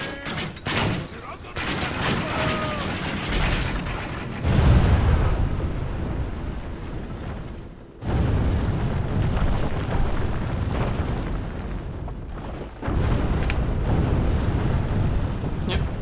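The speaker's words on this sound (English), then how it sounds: "I'm just gonna blow up the walls." Siege walls blown up in Total War: Warhammer, heavy booming explosions and crumbling crashes rolling in several loud waves, with dense battle noise throughout.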